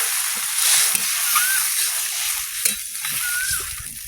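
Water poured into a hot frying pan of cooking chillies bursts into a loud, continuous sizzling hiss, close up, with soft bubbling underneath.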